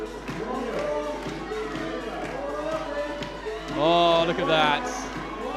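A crowd cheers at a gymnastics event, swelling briefly beneath steady commentary from someone speaking close by.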